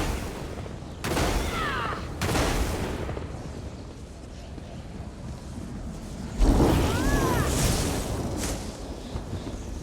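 Lightning spells cast in The Elder Scrolls Online crackle and burst in a few loud surges over a rumbling battle backdrop, each with a brief sweeping zap, the strongest near the end.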